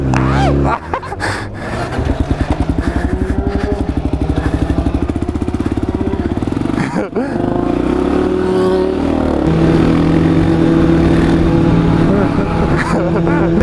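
A motorcycle pulls away from a green light on a city street, its engine rumbling and rising in pitch as it accelerates, loud and close, with wind buffeting and brief voices over it.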